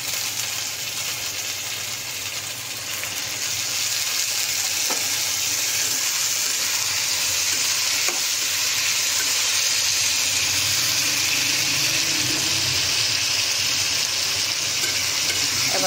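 Tomatoes added to a frying pan with onions while cooking a Bengali chheuya fish curry, producing a loud, continuous sizzle and hiss that holds steady throughout, with faint stirring.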